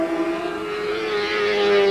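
750cc racing motorcycles at Donington Park, a single high-pitched engine holding a steady, buzzing note that builds slightly louder as it approaches, close and alone.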